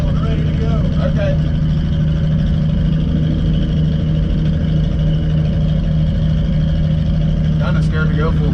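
A small block Chevy engine in a vehicle buried to the axles drones loudly and steadily at high throttle, with brief voices cutting in near the start and end.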